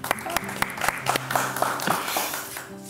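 Studio audience clapping at a televised mind-reading show, a burst of sharp irregular hand claps that swells into dense applause and then gradually thins out.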